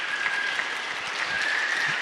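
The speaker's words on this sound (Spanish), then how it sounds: "vamos a aplaudir para que ellos se sientan más felices" A church congregation at a Sunday service applauds the choir, with steady, dense clapping that holds at an even level for about two seconds without a break.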